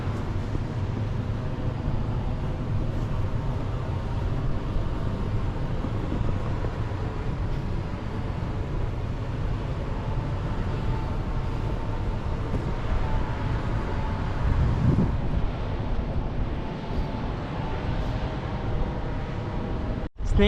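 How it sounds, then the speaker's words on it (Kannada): Cool wind blows steadily across the hilltop viewpoint at Seegegudda near Hassan, a constant broad rushing roar with no pauses, buffeting the microphone throughout. "ಒಳ್ಳೆ ತಣ್ಣಗೆ ಗಾಳಿ ಬೀಸ್ತಿದೆ"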